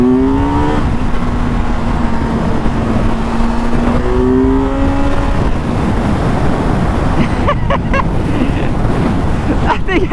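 A vehicle accelerating hard up the ramp onto the I-90 highway, a loud continuous roar of engine and wind buffeting with rising engine tones shifting through gears, close and steady throughout.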